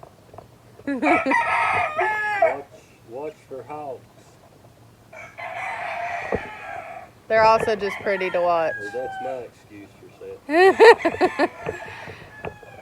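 Farm chickens cluck and a rooster crows in several loud, close bursts separated by pauses, while a person talks quietly between the calls.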